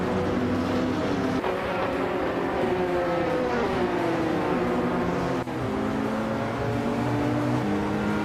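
Engine drone from Oreca prototype race cars in a racing video game, a 2015 Oreca 05 and an Oreca 07 Acura among them, running steady and loud throughout with layered revving tones shifting up and down.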